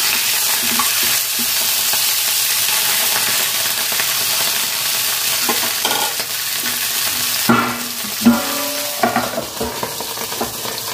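Banana flower paturi frying in a covered pan, giving a constant close sizzle, with a few clinks and knocks of a lid or utensil near the end.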